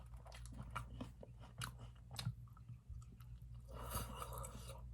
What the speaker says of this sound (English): How do you eat an apple?